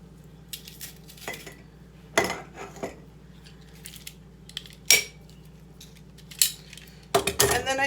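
Garlic clove crushed into a jar with a press or utensil in a kitchen, heard as a handful of sharp metallic clinks and scrapes spread across a quiet background, close and fairly loud, with no talking.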